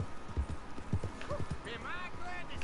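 Horse hooves clip-clop in Red Dead Redemption 2, a steady run of hoof beats at close range, followed by a horse's whinny, with game sounds around them.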